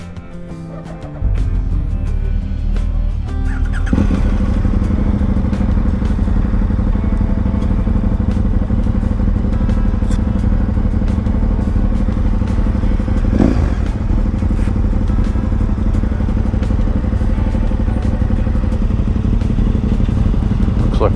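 Group of motorbikes idling and revving outdoors, a loud continuous rumble of engines kicking in after a second and persisting, with occasional rattles and brief throttle blips.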